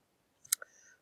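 A couple of light keyboard key clicks as Control R is pressed, quick and close in a quiet room, followed by a faint short tone.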